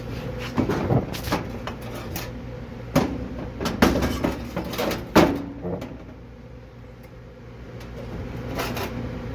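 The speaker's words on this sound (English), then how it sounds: "this goes back in this bottom drawer." Wooden drawer and cabinet thuds knock in a workshop during metal vacuum casting with an induction forge, several sharp close bangs and scrapes in a row, then quieter shuffling handling noise.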